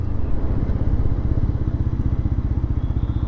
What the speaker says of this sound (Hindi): मैं मोटरसाइकिल को थोड़ा फास्ट लेके जाता हूँ और ये मैं यहाँ पे रियर ब्रेक अप्लाई करता हूँ